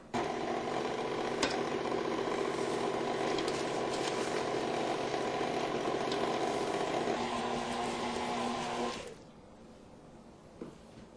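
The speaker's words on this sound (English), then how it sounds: "Now I'm going to keep the mixer on low and gradually add the flour mixture." An electric mixer on low speed beats cookie dough as flour is added for a giant chocolate oat cookie, a steady close motor whir that runs for about nine seconds and then cuts off, leaving near quiet.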